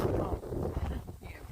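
Strong wind gusting outdoors on a bitterly cold, windy day around ten below zero, buffeting the microphone as a loud, continuous low rumble that eases slightly toward the end, with no talk.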